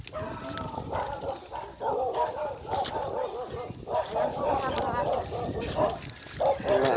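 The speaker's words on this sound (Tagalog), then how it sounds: "Mga aso." Several dogs bark intermittently outdoors during a walk in an area with mango trees, mixed with people talking loudly nearby throughout.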